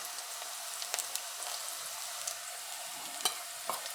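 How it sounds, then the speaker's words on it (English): Onions frying in oil in a pan for a channa curry, a steady close sizzle with scattered pops and crackles and no voices. "we're going to fry our onions a bit, let that release some flavor into our oil, get a little color"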